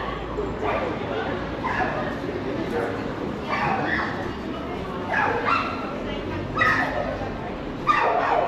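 A crowd of dogs bark and yip repeatedly out on a town street in Chester, short sharp calls recurring every second or so under steady street noise and nearby talk.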